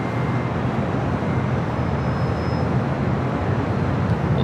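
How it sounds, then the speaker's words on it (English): A WestJet Boeing 737-700 on its takeoff roll from runway 24 left at Los Angeles airport, a broad, steady jet roar heard from a distance that holds level throughout. "WestJet Flight 1511 taking off to Calgary"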